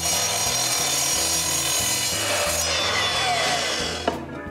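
Saw cutting a wooden rail to length for an edge sander build: continuous loud, gritty cutting noise with a steady pulsing rhythm that shifts in tone partway, ending with a sharp click as the cut finishes.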